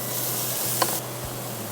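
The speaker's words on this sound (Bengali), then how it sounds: "এখন আমরা একটু এটা এই হালকা তেলের মধ্যে এটা একটু ভেজে নেব চালটা" Broken rice and ginger frying in a little oil on a TV cooking show give a steady hiss with a low hum underneath and one brief clink, and no one speaks.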